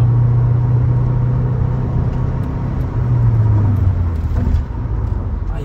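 The engine of a Volkswagen Beetle drones steadily inside the car at highway speed, under a wash of road rumble. Partway through, the engine note shifts as it downshifts.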